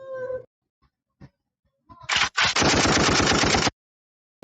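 Video game gunfire erupts after a few scattered taps: a couple of sharp shots followed by a rapid, sustained automatic burst lasting over a second, loud and close, then silence.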